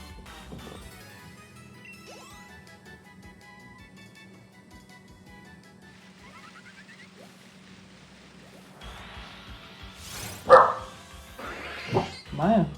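Background tones and sound effects from Pokémon Shield play quietly, then near the end a dog gives a few loud, sharp barks close by.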